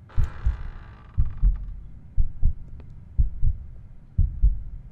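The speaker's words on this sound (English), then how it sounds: "I can hear heart beating in my ears." Heartbeat sound effect from the horror video game The Lost Fear: a steady lub-dub double thump repeating about once a second, deep, muffled and close, with no voices over it.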